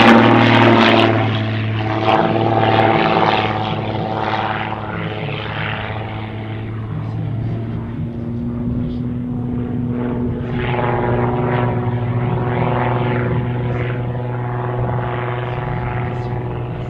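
A propeller airplane drones steadily through an air show demonstration flight at Aspres-sur-Buëch, its engine holding a sustained buzzing hum that fades slightly and then swells again as it passes.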